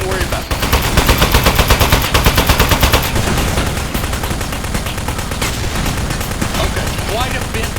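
Rapid automatic gunfire in the Aperture Desk Job video game, loud continuous bursts with a rattling rhythm strongest early on, giving way to a dense ongoing barrage mixed with game effects and some speech.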